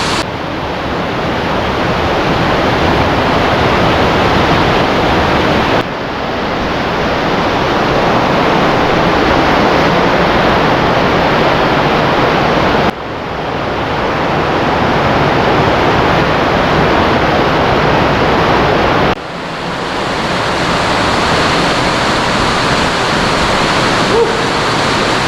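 Loud, steady roar of rushing water filling an abandoned dam tunnel at the Montejaque dam project, a dense echoing wash that briefly dips and surges back several times, with no talking.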